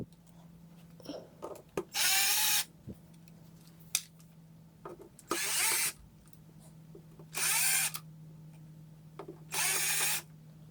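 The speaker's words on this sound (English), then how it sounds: "So I'm just gonna go around it real quick with my drill." Power drill working around the plastic casing of an ECOXGEAR Eco Boulder+ speaker during disassembly, four short loud whirring bursts spaced a couple of seconds apart, with faint handling clicks between them.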